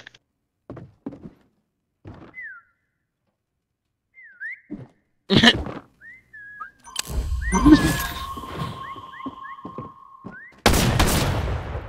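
A player whistles short, rising tune-like notes while hiding in a Fortnite prop hunt match, scattered whistles amid footsteps, thuds and bursts of gunfire that grow louder and busier toward the end.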